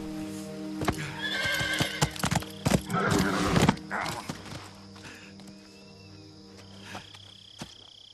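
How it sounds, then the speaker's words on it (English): Horse neighing and clip-clopping hooves in the stealth game Metal Gear Solid 3: Snake Eater, with several loud whinnies and snorts up close, then quieter scattered hoof steps fading away over a steady background hum. "Stupid horse. Now, go home."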